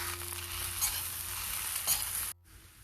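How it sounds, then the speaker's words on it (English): Masala idli with gunpowder spice being stirred in a pan: a steady, close frying hiss with a couple of brief scraping strokes, ending abruptly in near quiet. "Mix it properly."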